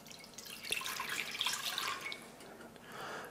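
A faint, brief splash of liquid, water and semi-skimmed milk, pours into a pan on the hob for making traditional Scottish tablet, a soft trickle lasting a few seconds.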